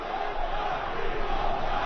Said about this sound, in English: And now the crowd yelling, Papito, Papito for Vasquez.